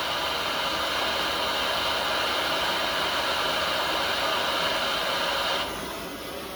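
A small torch roars with a steady, hissing flame while heating a throttle part on a backhoe, loud and close, then cuts off abruptly near the end, leaving a quieter hiss.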